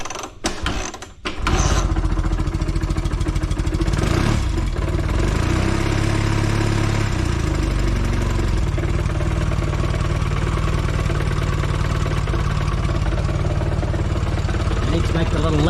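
A Velocette motorcycle engine with a freshly replaced front oil seal is kicked over a few times, catches, and settles into a loud, steady, close idle with a low throb; a voice speaks briefly near the start.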